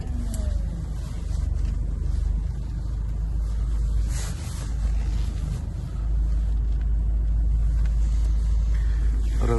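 A Hyundai Galloper's engine rumbles at close range with a deep, steady low drone, minor surges in loudness partway through, and no talking over it.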